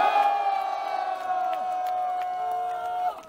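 A rally crowd raises a sustained collective shout and cheer, loud and steady for about three seconds before tapering off at the end.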